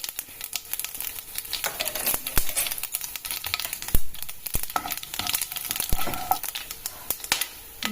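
Mustard seeds, pepper and asafoetida sizzle in about two teaspoons of hot oil, a steady crackle dotted with sharp pops and seed spatters throughout.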